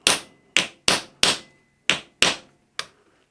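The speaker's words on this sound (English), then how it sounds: "I'm just going to rivet this over now," Hammer blows riveting over a brass handle for an 1890 railway carriage, seven sharp metallic strikes at irregular intervals, close and loud with short ringing decay.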